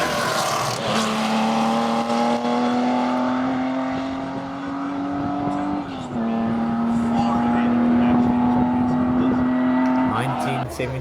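A 1972 Ford Capri race car at a hillclimb roars loudly and close, its engine note holding and climbing through a gear change, with a commentator talking over it.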